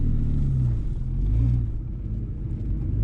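A Nissan Skyline GT-R R32 engine at an autocross at Road America gives a loud, close, low rumble, with brief rising surges that suggest revving.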